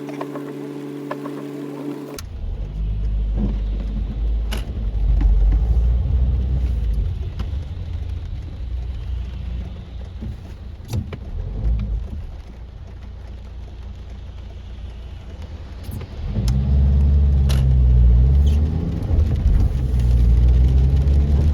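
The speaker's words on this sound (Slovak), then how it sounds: "Taká premávka je, že" Heavy road traffic with cars driving past, a continuous low engine rumble that swells as vehicles pass close by, with a louder surge near the end, no voices.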